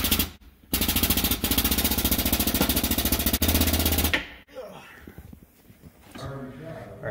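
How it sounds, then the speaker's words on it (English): Press forcing the reverse gear out of an Alfa Romeo transmission during a rebuild: a loud, steady rapid rattling drone for about three seconds, then a clunk and quieter scraping and shuffling noises. "pressing out the reverse gear"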